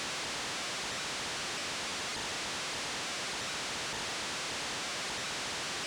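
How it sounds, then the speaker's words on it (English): Steady, even static hiss like a white noise machine from the Zelda Oracle of Seasons video game after floodgates open, a dense broadband wash running unbroken at moderate level with no voices. "That's a very nice white noise machine."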